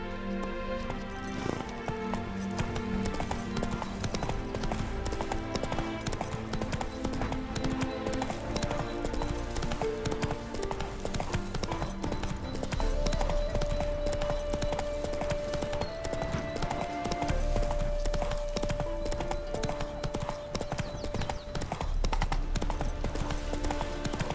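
Horse hooves clip-clop in a steady running rhythm while riding in The Witcher 3, with an occasional whinny, all set against a continuous game music score.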